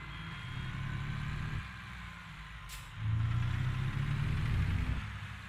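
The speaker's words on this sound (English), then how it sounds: "This truck sounds really good." A Western Star 49X truck idles in the American Truck Simulator game, a steady low engine rumble that swells louder midway, with a brief hiss of air.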